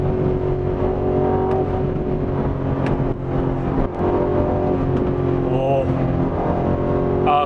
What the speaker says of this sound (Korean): 그래서 지금 차량이 좀 없어졌기 때문에 속도를 좀 내보도록 하겠습니다